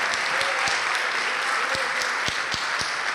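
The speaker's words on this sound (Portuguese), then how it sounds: "Vamos aplaudir mais ao nome de Jesus." A church congregation applauds together in a steady, dense wash of clapping, with a few sharper individual claps standing out, sustained throughout.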